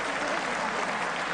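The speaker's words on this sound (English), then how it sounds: "a good reaction from the crowd" A crowd at a women's professional boxing bout claps and cheers in a dense, continuous wash of applause, loud and sustained with no pauses.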